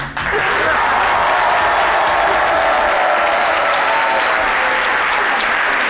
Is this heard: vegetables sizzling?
no